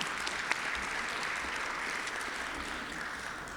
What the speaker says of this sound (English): Let's give Stephanie a round of applause.